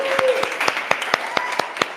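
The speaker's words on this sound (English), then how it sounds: "let's vote for song number 1 by your claps" An audience at a music event claps in a rhythmic unison beat, with about eight sharp claps spaced evenly, while a voice whoops faintly underneath near the start.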